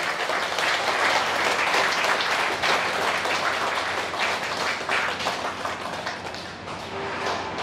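A loud, sustained round of applause from a gathered audience at a Pyramid meditation masters' meeting, many hands clapping continuously and energetically for several seconds, easing slightly toward the end.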